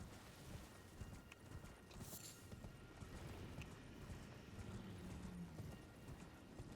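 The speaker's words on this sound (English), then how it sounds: "that was pretty egregious Skyrim horse climbing a mountain" In the Elden Ring video game, a horse's hooves clip-clop in a faint, steady rhythm as it climbs a mountain, with no voices.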